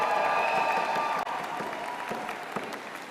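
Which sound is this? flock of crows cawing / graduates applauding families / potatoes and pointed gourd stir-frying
graduates applauding families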